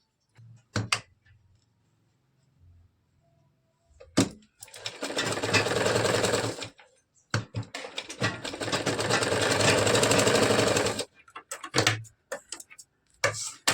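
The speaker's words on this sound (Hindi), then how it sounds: "बिल्कुल धीरे धीरे सिलाई चलानी है, कपड़े को ज़्यादा खींचना नहीं है।" A sewing machine runs in two steady bursts of rapid, whirring stitching on a katori blouse, worked slowly without pulling the fabric, with short taps and clicks of handling before and after.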